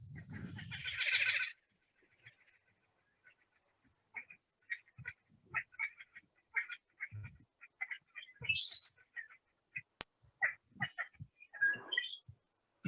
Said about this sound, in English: that was a pied-billed grebe